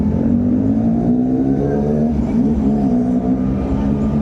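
Motorcycles of travelling riders idle and rev at a roadside stopover, a close, loud, continuous engine drone with slowly shifting pitch and no talking.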